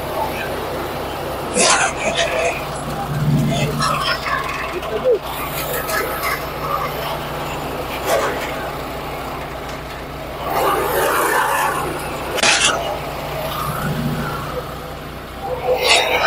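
A larger shredder and wood chipper machine runs with a steady, loud, broadband mechanical drone and a low hum throughout, with occasional surges and clatter, while people talk over it.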